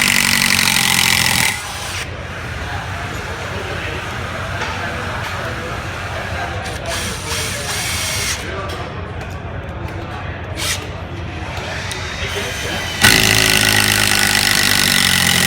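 Subcompact 18-volt impact driver driving screws, a steady loud motor whine with rapid hammering that runs through most of the span, strongest at the start and end.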